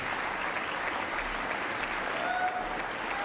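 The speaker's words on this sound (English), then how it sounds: "They're never going to stop clapping" Sustained applause from a large chamber audience during a congressional speakership vote, steady and continuous throughout with no break.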